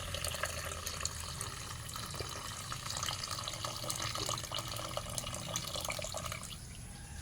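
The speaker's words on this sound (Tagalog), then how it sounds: "Lagyan na natin ng gata guys." Coconut milk is poured into a cooking pot, a soft, continuous liquid splashing and trickling that stays faint and fairly even throughout.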